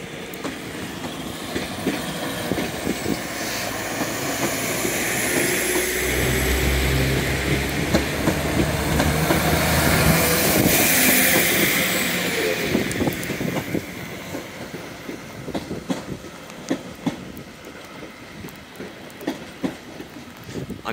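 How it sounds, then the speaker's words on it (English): A Northern class 331 electric multiple unit pulls into Manchester Piccadilly station, a steady rumble and wheel clatter swelling to a peak midway, then easing with faint squeals and clicks as it slows, with no talk. "Arriving in now is a class 331 northern service, as 117 also leaves."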